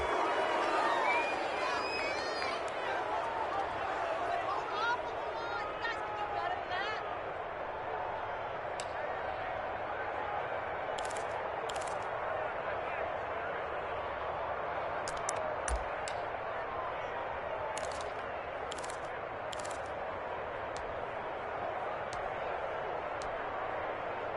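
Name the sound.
stadium crowd in a football video game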